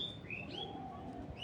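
Black racing pigeons in a loft, a few thin chirps and soft calls rising and falling over a low background murmur, faint and close.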